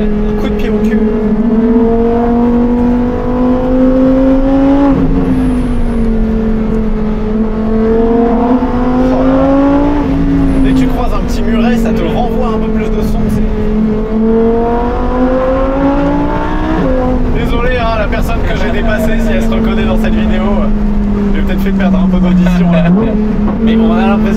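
A Lamborghini Huracán Tecnica's V10 engine revs loudly and close, climbing in pitch again and again through several gear changes in one long, sustained pull.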